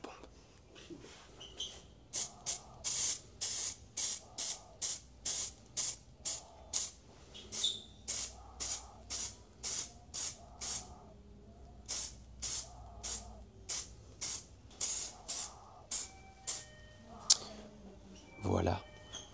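An aerosol can of High Gloss Black spray paint hisses in a long series of short, regular bursts, close and fairly loud, with brief pauses between sprays.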